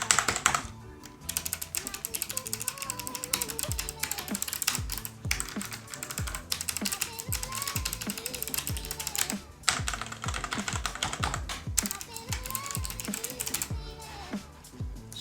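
Typing on a wireless Logitech G915 Lightsync mechanical keyboard with clicky switches, a rapid steady patter of close key clacks with short pauses, and background music underneath.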